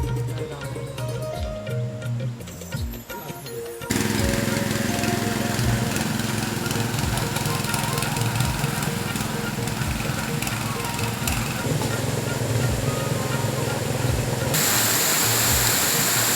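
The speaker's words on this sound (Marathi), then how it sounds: "सुंदर असं स्वच्छ पाणी खलखलनाला आवाज नदीचा तो कानी पलनाला" Clear river water flows over rocks beside the Tivare Gangechiwadi waterfall in Konkan, a steady broadband rush that grows louder and fuller after a quieter start, with faint voices now and then.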